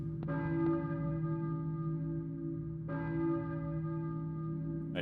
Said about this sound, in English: church bell, maybe? Who is ringing the bell?